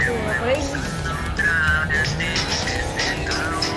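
A car in a video game drives with a continuous engine roar and squealing tires, while a person talks over it the whole time.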